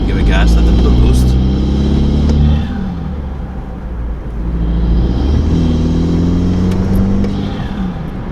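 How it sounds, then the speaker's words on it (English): BMW 330i (F30) with a performance intake accelerating loudly close by, engine tone rising in two pulls with turbo spool whine, separated by a brief easing off. "The turbo spool is louder, and that blow off sound, it sounds amazing."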